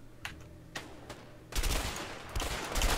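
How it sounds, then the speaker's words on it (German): Bursts of rapid gunfire in the video game A Way Out erupt after a few sharp isolated shots, loud and dense, with overlapping crackling reports continuing to the end. "Irgendwo habe ich noch Schüsse."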